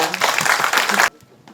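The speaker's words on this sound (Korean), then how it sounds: "다시 한번 감사의 박수 부탁드립니다" A briefing audience gives a burst of dense applause at close range that stops abruptly after about a second, leaving quiet room tone.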